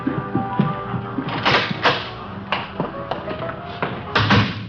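In an old-time police radio drama, a side door is worked open and shut, giving a series of sharp close knocks, latch clicks and thuds spaced across the moment, with faint background tone between.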